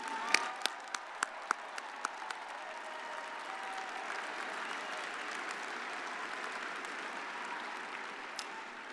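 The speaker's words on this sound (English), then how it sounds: "one more round of applause for our newest members of the Mountaineer alumni family" A large crowd at a university commencement ceremony applauds steadily, a dense continuous patter of clapping with a few sharp individual claps standing out near the start.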